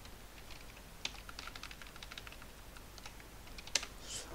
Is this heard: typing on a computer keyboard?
yes